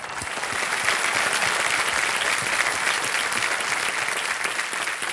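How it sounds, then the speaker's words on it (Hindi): Sustained applause from a studio audience on a televised Hindi quiz show, loud and steady throughout without a break. "तालियां बज जाए इनके लिए।"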